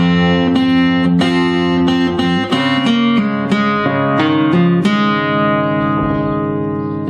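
Fingerstyle acoustic guitar picking the opening two bars of a song's verse, clear plucked notes and ringing open strings in a steady melodic pattern, played alone and close.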